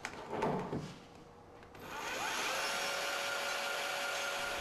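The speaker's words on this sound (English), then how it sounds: "A 3mm pilot hole is drilled in the correct position on the rail." A power drill bores a 3mm pilot hole into an Innotrax floor rail, a steady whirring drone starting after a short handling clatter and running on evenly.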